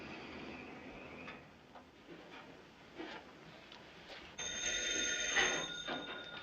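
An old-fashioned telephone bell rings, faint and intermittent at first, then a louder, sustained metallic ring near the end, with no talk over it.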